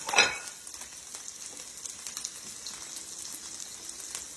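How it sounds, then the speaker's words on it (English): Soft, crackling sizzle of burger bread grilling with garlic butter on a hot surface, quiet and steady after a brief louder clatter at the start, with no voices. "It won't take that bread long at all to grill up."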